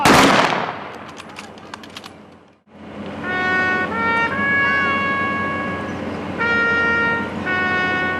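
A rifle volley salute at a community memorial ceremony opens with a loud crack that echoes and fades. After a brief hush, a sustained brass-like horn melody plays with held notes.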